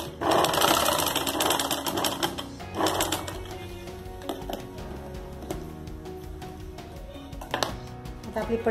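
A sewing machine runs in bursts while stitching a fabric make-up brush pouch, its rapid mechanical chatter starting and stopping at close range with no talk.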